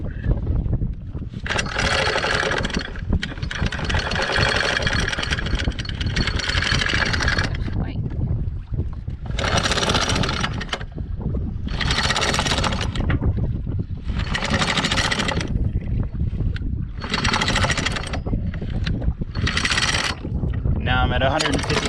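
A sailboat's heavy anchor chain rattles out in repeated bursts as the boat drifts, over a steady roar of wind and water, the clanking surges coming in rhythmic waves.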